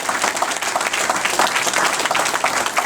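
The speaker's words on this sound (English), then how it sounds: "so let's give y'all a round of applause" Dense, steady applause from a large audience at a community event about black men and boys, many hands clapping together at close range and holding level throughout, with some crowd noise mixed in.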